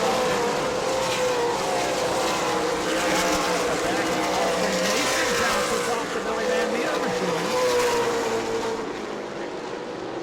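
Stock race cars battle side by side on the back straightaway at New Smyrna Speedway, a continuous loud engine roar with shifting pitch, heard under race commentary.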